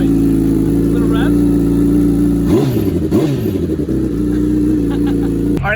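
A 2019 Honda CBR1000RR, recovered after being stolen and looking rough, idles with a steady engine drone, then blips its throttle in a couple of quick revs midway before settling back to idle, close and loud, with speech over it.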